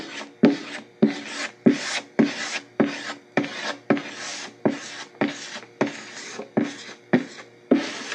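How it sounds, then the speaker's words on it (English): A squeegee spreading Zpoxy epoxy pore filler across the grain of a wooden guitar body, with about a dozen evenly spaced scraping strokes close by, each a short rasping drag, alone without talk. "I'm just using a squeegee, working across the grain."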